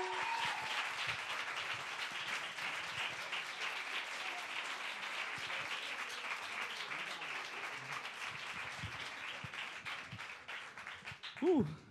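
A crowd at a LOS40 Backstage concert applauds steadily for the band, dense clapping sustained throughout with a few cheers, a voice briefly rising at the very end.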